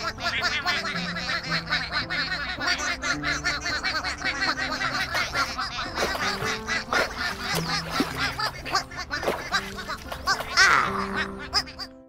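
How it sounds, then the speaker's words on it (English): Cartoonish ducks quack and honk in a kids' counting app game, a busy cluster of bright, bouncy calls over playful music, with laughter-like chirps throughout. "Big Blue made sure that all 12 ducklings found the pond."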